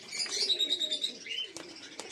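Pet pigeons, a mix of breeds kept at a home loft in the rain, give soft throaty coos close by, layered with a few higher chirps and light scuffling, with no talking.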